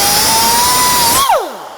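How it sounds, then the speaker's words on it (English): An abrasive cutoff wheel slices through threaded metal rod with a steady, loud high-pitched whine and grinding rasp, then the wheel spins down, its pitch sliding quickly lower as the cut finishes. "whenever you cut things off with a cutoff wheel like this that are threaded, there's going to be some burrs"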